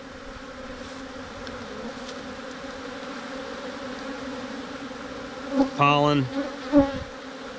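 Aggressive bees drone steadily around a hive being torn down, a constant buzzing swarm with a louder bee zipping close by near the end and a single spoken word.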